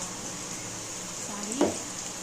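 Tomato and coriander sautéing in a pan for tomato rice give off a soft, steady sizzle, broken by one brief clatter near the end.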